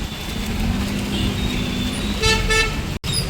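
Steady roar of Mumbai city traffic with a rushing wash that fits rain, and a couple of car horns toot near the end.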